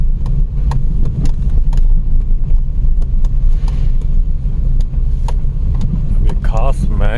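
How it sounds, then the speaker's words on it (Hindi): Heavy road traffic rumbles past continuously on a road through tiger territory near Corbett, with a steady car engine drone and a voice talking over it. "देखिए ट्रैफिक, देखिए ज़बरदस्त ट्रैफिक होता है"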